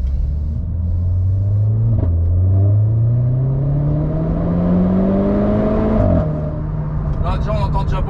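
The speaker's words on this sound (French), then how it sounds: "Là déjà on entend déjà beaucoup plus les craquements de l'échappement" A Renault Clio 4 RS drives under load with a steady engine drone rising in pitch through the gears, one gear change midway and a burst of exhaust crackle near the end, close and loud throughout.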